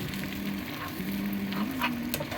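Beaten egg sizzling and frying in a pan as a spiced scramble for a sandwich filling, a steady close hiss with a faint stirring scrape, no voices.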